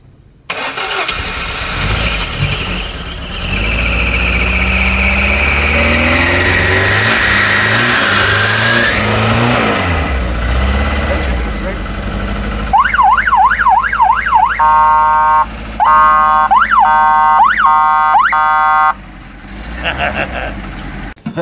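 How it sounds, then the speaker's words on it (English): A Lada car engine revs loudly and steadily for several seconds, then a car alarm wails in close, repeating siren cycles over the idling engine, with a short pause between bursts. "how to wake somebody in the morning with a Lada, not an alarm clock"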